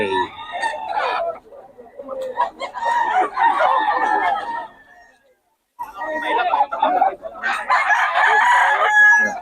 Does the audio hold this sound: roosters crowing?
yes